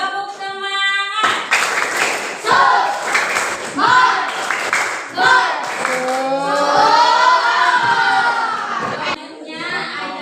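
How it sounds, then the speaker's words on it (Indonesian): A group of children in a classroom claps out a rhythmic spirit clap, loud bursts of hand claps mixed with cheering and shouted voices close by. "tepuk semangat"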